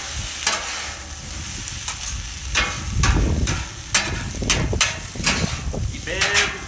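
Chicken, potatoes and Brussels sprouts sizzle on a Camp Chef flat-top grill under a steady hiss, with sharp metallic spatula clacks and scrapes as the food is tossed, loud and close, while someone talks in between.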